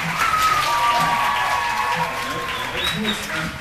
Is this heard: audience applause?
yes